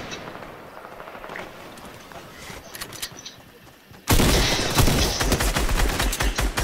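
Fortnite gunfire plays on PC, with sparse distant shots at first and then a loud, sustained burst of rapid fire that continues to the end.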